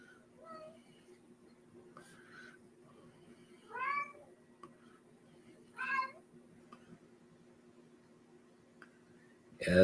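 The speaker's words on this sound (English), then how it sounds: "that is my vocal cat telling us about how horrible his day was" A vocal pet cat meows three times indoors, each cry distinct and spaced about two seconds apart, over a quiet room hum, with a louder sound at the very end.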